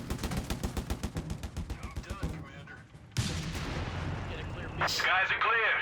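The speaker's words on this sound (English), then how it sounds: "Mortar fire." Mortar fire in Company of Heroes 3, in a DAK versus USF battle, thumps out in a steady series of rhythmic launches, then a heavy impact lands amid the ongoing noise of battle.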